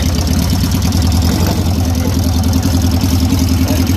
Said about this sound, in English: That idle's really nice.